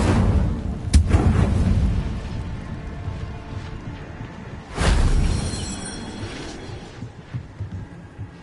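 A fire spell cast in Hogwarts Legacy bursts out twice, a whooshing flare near the start and a fuller one a few seconds later, each settling into a low rumbling hum with scattered crackles.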